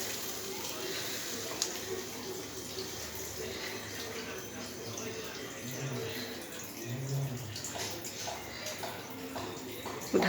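Water is poured into a pan of potatoes being cooked for curry, a soft continuous splashing and trickle that stays fairly quiet, with faint background noise throughout.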